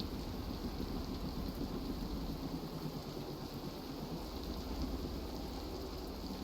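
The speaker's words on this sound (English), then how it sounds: "Good lord, this storm is getting worse." Steady storm rain with low thunder rumbling beneath it in the video game Scrap Mechanic, a dense, constant wash of noise that stays fairly quiet and unbroken throughout, with no voices.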